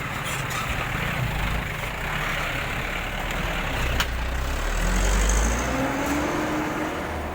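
A car drives slowly through a busy market, with a steady engine drone close by and the surrounding crowd noise underneath. It rises slightly toward the end, and there is no clear speech.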